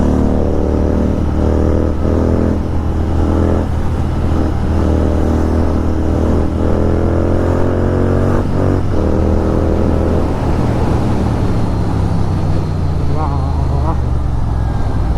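A GT II motorcycle on new alloy wheels rides steadily, its engine drone loud and continuous with rising and falling pitch as it accelerates; a rider seems to speak over the engine noise.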